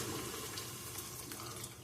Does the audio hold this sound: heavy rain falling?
no